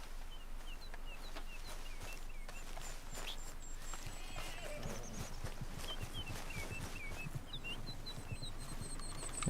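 An American Standardbred horse in Red Dead Redemption 2 clip-clops at a steady walking pace close by, hooves thudding under chirping birds and faint rooster-like calls in an outdoor game setting.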